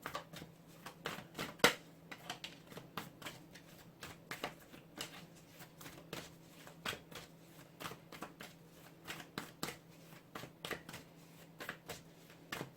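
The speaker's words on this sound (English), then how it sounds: "One more shuffle." Tarot cards shuffled repeatedly in quick riffling bursts, crisp close-up flutters and taps with a faint steady hum underneath.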